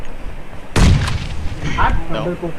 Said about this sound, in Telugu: గ్రెనేడ్ వేస్తున్నా